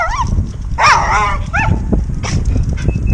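A dog gives a few short, high yips and whining barks at close range over a rumbling outdoor background.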